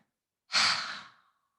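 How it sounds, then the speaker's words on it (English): A single forceful breath pushed out through the mouth during yoga practice, close and breathy, fading over about a second, alone in silence. "Throw the breath on the exhale."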